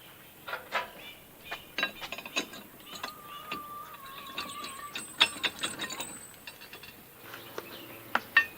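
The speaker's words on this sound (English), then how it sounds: "First, I'm loosening the nuts again to give me more wiggle room." Ratchet wrench clicks loosen nuts on the bolts of a post and beam barn frame, coming in irregular quick runs of close, crisp ratcheting with brief pauses and a faint squeak.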